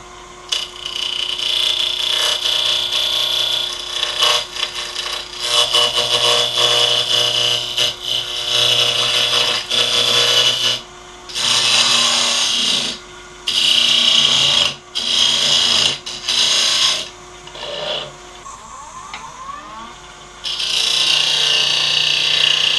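A wood lathe turns a scrap mahogany glue block to round with carbide tools, giving a loud, bright, steady cutting hiss over the motor hum, broken into bursts as the tool touches and lifts off the wood.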